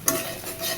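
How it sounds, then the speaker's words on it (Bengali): Ground chilli and coriander spices for an egg curry are stirred and fried in a pan, making a short burst of sizzling with a quick scrape, close and fairly loud. "এবার ভালো মতো মশলা কষাবো।"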